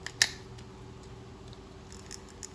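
A Japanese spinning fishing reel, size 2000, has its bail arm flipped over: one crisp, close metallic snap near the start, followed by near silence with a few faint small clicks.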